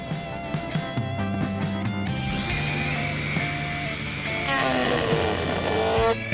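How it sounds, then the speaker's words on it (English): A Dremel rotary tool cuts a hole into a hardened, sanded diorama, giving a steady high whine with shifting pitch and grinding overtones. The whirring runs close and continuous throughout, with no talk over it. "it was time for the Dremel to make a hole for the electronics that come later."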